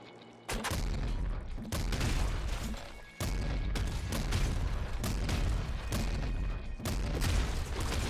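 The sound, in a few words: grenade launcher explosions in video game Nuclear Throne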